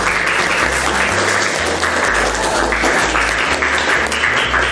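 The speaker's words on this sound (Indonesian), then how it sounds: "Tepuk tangan anak-anak." Schoolchildren in a classroom applaud together, a loud, dense burst of clapping that stays steady and close for the whole span, with no talk over it.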